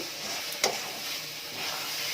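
Amla (Indian gooseberry) pickle being stirred in a pan, a steady soft sizzle and hiss with one brief sharp scrape of the spoon early on, close and continuous with no voices.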